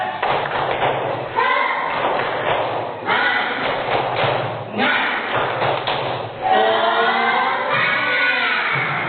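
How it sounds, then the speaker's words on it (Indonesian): Students in a class repeat the tepuk semangat clapping chant, patterned groups of sharp claps interleaved with shouted chanting in unison, loud and close throughout. "Sekali lagi, tepuk semangat"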